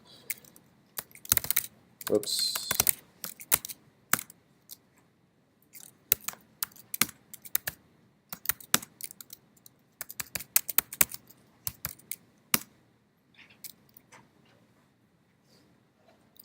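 Rapid bursts of computer keyboard typing as numbers are entered, clustered clicks with short pauses, fairly close and moderately loud, with a brief spoken exclamation partway through.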